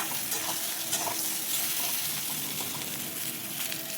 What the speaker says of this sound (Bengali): বেগুনটা খানিকটা ভাজা হয়েছে